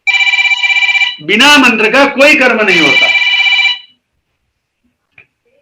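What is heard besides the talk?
mobile phone ringing with an incoming call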